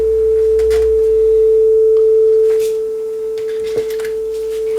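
A steady 440 Hz calibration tone plays from a Technics RS-M234 cassette deck, a pure continuous pitch holding evenly for the whole stretch, with faint background noise and a tiny click near the end.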